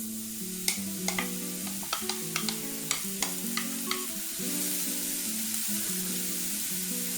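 Mushrooms sizzle in olive oil in a pan, a steady frying hiss punctuated by sharp clicks and taps of a utensil stirring them around, close and without talk.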